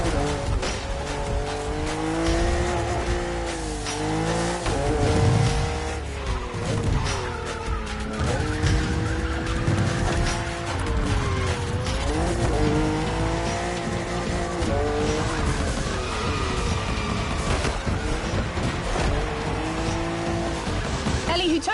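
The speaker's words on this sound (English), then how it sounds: "It feels absolutely sick drifting with this monster." A 1,000-horsepower BMW M4 drift car skids continuously in The Crew Motorfest, its engine roaring and wavering alongside sustained tire squeal, loud and close throughout, with a voice talking over it.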